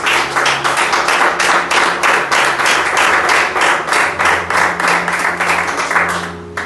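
A church congregation at a doctrine service claps in loud, steady, rhythmic unison for several seconds, the beats close and evenly spaced.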